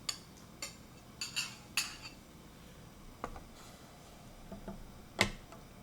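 Pre-cooked BIR-style lamb dished out with its sauce using metal utensils, giving scattered light clinks and taps of cutlery against a pan or dish, a few sharper than the rest, over a quiet background.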